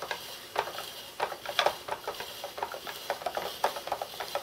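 A tri-blade mandoline spiral slicer is turned by hand, cutting zucchini into noodles, giving a steady run of crisp, crunchy clicks and snaps at close range with no talking.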